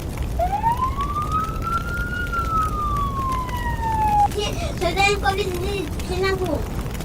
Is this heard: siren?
yes